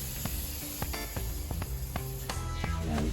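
A product is sprayed in repeated short bursts onto an oversized lounge chair being reupholstered, each hiss close and distinct over a steady background noise.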